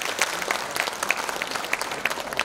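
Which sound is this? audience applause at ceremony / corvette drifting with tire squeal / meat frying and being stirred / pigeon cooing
audience applause at ceremony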